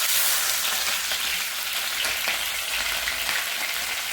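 Chilies frying in hot ghee, a bright continuous sizzle with crackling pops, close and fairly loud, steady throughout with no voices.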